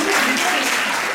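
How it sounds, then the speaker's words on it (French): A group attending an awareness session on excision gives a brief, dense burst of applause, short and steady at moderate volume. "On vous applaudissez pour moi."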